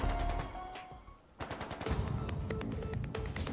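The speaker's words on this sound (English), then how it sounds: "Gunfire from deeper in." Video-game gunfire crackles in rapid machine-gun bursts. The fire drops out briefly, then resumes as a denser, continuous volley of overlapping shots.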